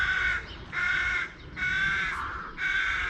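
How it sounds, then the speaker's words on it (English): Crows caw repeatedly, four harsh calls in a row with short gaps, fairly near over quiet outdoor background. "the crows are in the crow's nest, well, top of the trees anyway"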